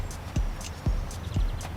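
A horse walks with a rider aboard, giving three evenly spaced hoofbeats with dull, low thuds at a steady walking pace, each with a faint high scuff, close by, with no talk.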